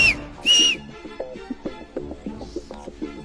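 A whistle shrills in two short, loud blasts at the start of a comic Hindi short, followed by a steady plucked, tonal musical pattern with no speech.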